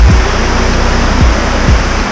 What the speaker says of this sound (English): We're walking past another great waterfall.